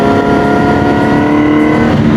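Superbike engines, a KTM Adventure among them, at a riders' meetup, a loud, steady roar of revving motors close by with no pauses and no talk over it.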